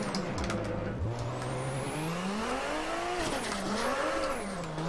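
A Nissan Skyline R32 drifting in Assetto Corsa, with a loud continuous engine note rising and falling through revs alongside high tire squeal, heard alone.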